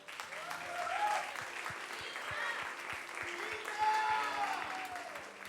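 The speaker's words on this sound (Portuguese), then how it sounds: "Palmas para a Emanuela." Church audience applause rolls on as a soft, continuous patter of many hands at a moderate distance, with scattered voices and cheers mixed in throughout.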